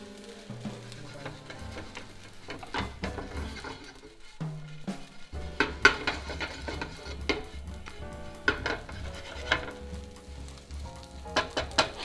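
A paddle stirs sizzling food in a pan while a Filipino breakfast cooks. Steady frying hiss runs throughout under repeated knocks and scrapes of the paddle against the pan, close and fairly quiet, with no talking.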